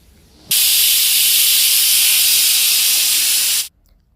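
A kitchen pressure cooker vents steam in one loud, continuous hiss that starts abruptly, holds steady for about three seconds and then cuts off sharply, with no talking.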